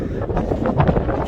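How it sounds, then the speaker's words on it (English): Gusty wind buffets the microphone outdoors near a small volcano at Amboy, California, a steady low rumble with rising puffs, continuous and close throughout. "It's very windy today."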